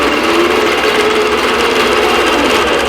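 A longarm quilting machine stitches a vintage quilt with a fast, steady mechanical chatter, loud and close, running continuously without pause or talk.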